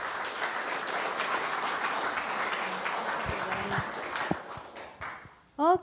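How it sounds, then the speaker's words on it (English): Audience applause for students at an annual meeting, a broad steady wash of many hands clapping that fades out near the end as a voice begins to speak. "So maybe one more round of applause for the students who've spoken."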